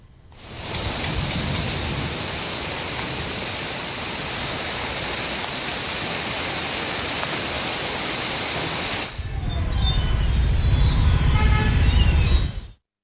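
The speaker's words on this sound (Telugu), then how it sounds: "సైదాబాద్లో మోస్తరు వర్షం పడింది" Heavy rain pours steadily in Hyderabad, a dense, loud hiss that holds for several seconds before shifting to a closer, rougher splashing of water at the end.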